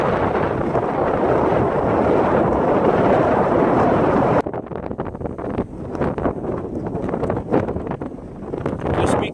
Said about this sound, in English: Very, very strong wind up here in the mountains.